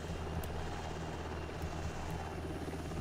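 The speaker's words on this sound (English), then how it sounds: "there's the helos. Getting ready for a mission." Military helicopters in the Prepar3D flight simulator game at NAS Fallon give a steady, continuous rotor and engine drone with a low throbbing hum, loud and unbroken for the whole stretch.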